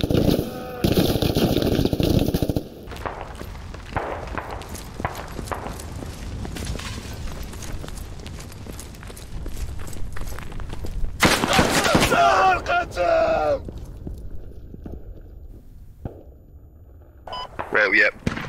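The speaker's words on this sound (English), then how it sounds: "Dropping artillery on crossroads." Artillery fire in the video game Squad: heavy booming impacts and bursts of shooting, loud at the opening and again around the middle, mixed with other battle noise while players talk.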